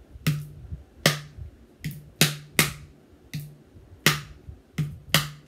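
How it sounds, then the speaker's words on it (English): Hawaiian ipu gourd drum struck by hand on its bottom and top, giving alternating low and high tones in a steady repeating beat pattern of about nine sharp, close, dry hits with no talk. "We're going to be hitting the bottom and the top of the ipu."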